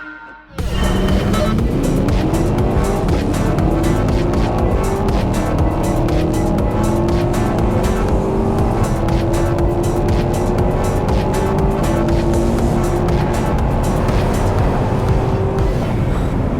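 A 682-horsepower AMG GLS63 SUV launches hard in a drag race, its engine roaring loud as the pitch climbs steadily through the gears, with a constant heavy rumble and roar.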